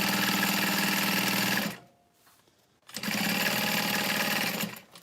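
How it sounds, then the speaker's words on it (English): A sewing machine stitches a thick leather wristlet strap in two loud, rapid bursts separated by a short near-silent pause, the needle's fast mechanical chatter close by. "So I'm just gonna sew this."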